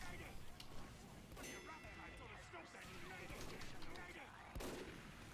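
Gunfire in the video game Team Fortress 2, a string of sharp shots and impacts, fairly faint, mixed with game noise and a player's speech throughout.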